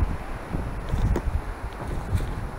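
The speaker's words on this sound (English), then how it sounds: "Too much wind, you wouldn't hear a moose calling back anyway." Gusty wind on a hike near a cabin buffets the microphone in low rumbling surges, steady with a few stronger gusts, and no voices are heard.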